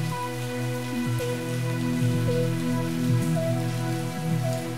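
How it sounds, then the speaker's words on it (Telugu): Heavy rain falls steadily at midnight, a dense, continuous wash of drops on surfaces with faint tonal hum in the background and no voices. "రాజయ్య ఆ అర్ధరాత్రి ఆ భారీ వర్షంలో ఆశ్రమానికి చేరుకుంటాడు."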